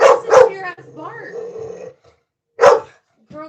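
Young puppy barking in short sharp yips, two quick barks then a low growl, another bark after a pause, close and loud.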